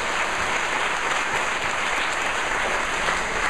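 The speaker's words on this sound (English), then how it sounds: "Let's give them a big round of applause" An audience at a parenting and small business graduation ceremony in Jamaica claps in a steady, continuous round of applause, many hands at once, filling the room without any speech.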